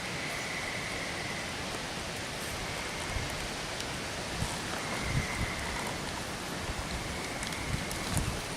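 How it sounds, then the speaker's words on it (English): Rain patters steadily on leaves in woodland, a soft continuous hiss with scattered drips and faint chirping insects or frogs in the background, no voices. "It's going to start raining here pretty soon."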